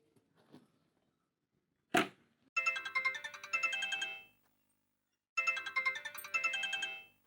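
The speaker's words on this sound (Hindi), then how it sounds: "किसका फोन है?" Mobile phone ringtone playing a bright, repeating electronic melody in two separate bursts, loud and close in an otherwise quiet indoor room, with a short thump just before the first burst.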